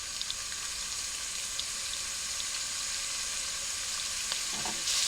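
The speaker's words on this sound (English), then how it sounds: "Alright, the oil's nice and hot. I'm starting to place my strips into the pan." Steak strips sizzle in hot oil in a pan with a steady, bright crackling hiss that holds evenly close by. A louder spatter flares just at the end.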